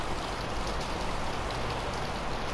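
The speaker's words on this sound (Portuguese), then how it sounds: "Nossa, tá chovendo lá fora." Steady rain pours in the Far Cry 5 video game, a dense, even hiss of drops and splashing water that holds at a constant level throughout with no voices.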